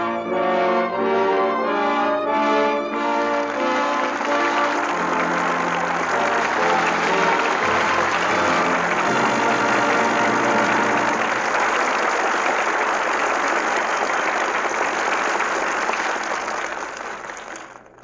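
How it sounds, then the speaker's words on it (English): A live studio audience at a 1945 radio drama broadcast applauds at length, with the clapping building from scattered claps into a sustained dense wash before fading out. "With that well-deserved applause"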